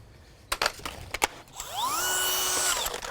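An 18V cordless drill runs in an endurance test: a few sharp mechanical clicks, then the motor spins up into a rising whine that holds steady and fairly loud, with no voices.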